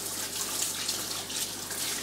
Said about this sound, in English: That's because I've just been running the tap,